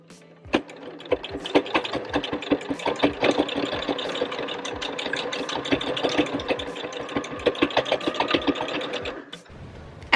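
A sewing machine stitches fabric scrunchies in a steady, rapid run of needle clatter, close and loud, lasting nearly the whole stretch before stopping abruptly near the end.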